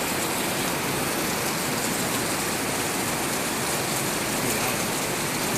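Heavy rain pours down in Kailua-Kona, Hawaii, a dense, loud, unbroken hiss of drops pounding nearby surfaces with no pauses and no talking.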